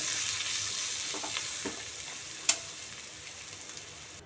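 Tamarind and Kashmiri chilli powder fry in a pan for a dosa chutney, giving a soft, steady sizzle with a few stirring scrapes and one sharp clink midway.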